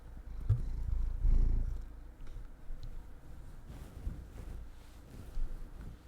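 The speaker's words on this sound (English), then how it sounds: "do you wanna purr into the microphone?" A cat purrs close into a microphone with a low, rumbling, rhythmic vibration that swells and fades in soft pulses, louder at first and then quieter.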